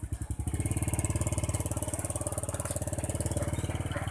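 At a people's market in Nunukan, a motorcycle engine idles close by with a fast, even put-put rhythm, loud and steady from start to finish.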